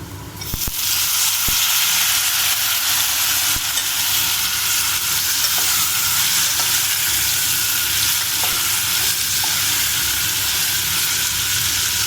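Tomatoes sizzle loudly in a hot pan for a Tomato Bath dish, with a steady, dense frying hiss throughout and a few faint clinks of stirring.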